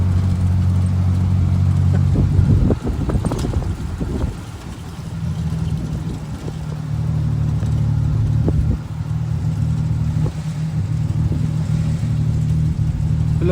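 A motorized tricycle (tuk-tuk) being ridden in Japan drones steadily at mid pitch, with a cluster of clunks and rattles early on before the engine settles back into an even hum.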